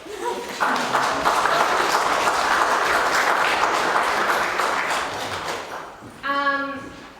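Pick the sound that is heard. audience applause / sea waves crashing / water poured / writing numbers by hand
audience applause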